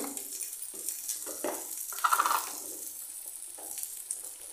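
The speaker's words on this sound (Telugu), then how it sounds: "2 to 3 మినిట్స్ ఫ్రై చేయాలండి మరి టొమాటోని" Tomato frying in a pan, a soft hiss under intermittent scraping and stirring strokes, close and fairly quiet.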